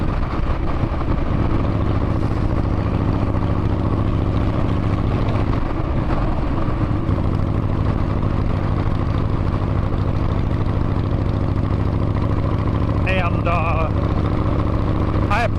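A motorcycle engine idles steadily up close with a low, uneven chuffing from an exhaust leak at the front exhaust gasket, a brief higher-pitched sound near the end.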